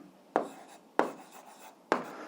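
Three quick pen strokes scratch across paper while an equation is written by hand, each a crisp rasp at an even pace, close and quiet, with no voice over them.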